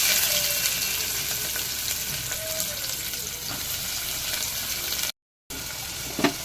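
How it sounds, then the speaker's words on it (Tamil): Onions sautéing in a pan with green chilies and curry leaves, a steady broadband sizzle with occasional stirring scrapes, close and fairly loud, with a brief silent gap near the end. "வெங்காயம் நல்லா வதக்கிக்கலாம்"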